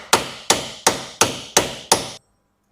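Six evenly spaced, ringing metallic hammer taps strike a bolt on a Ford Fiesta wishbone suspension arm, each a sharp close hit with a short decay, then silence.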